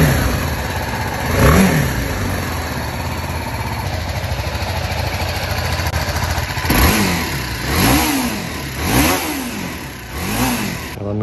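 A 2022 BMW 310 GS motorcycle engine idles steadily, then revs in sharp bursts. One rev comes early, and several more follow in quick succession near the end.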